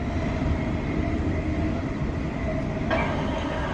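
Interior of a passenger train running on rails near Bletchley, a steady loud rumble of wheels and carriage noise throughout, with a faint rattle joining near the end.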